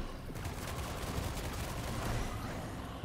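Dense, continuous volley of shots from the action game Forspoken, a steady barrage of cracks and bursts with a sharp louder hit at the very end.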